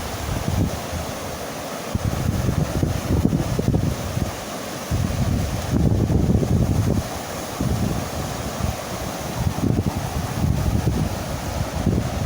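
Strong, steady wind roars and buffets the microphone just after rain while a fishing lift net is worked, with low rumbling gusts throughout and a faint wash of water beneath.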